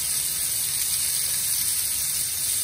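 Monkfish medallions set into a hot pan to cook, a steady close sizzle and hiss of frying, even and continuous with no talk.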